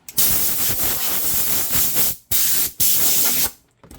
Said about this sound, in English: my compressor's going off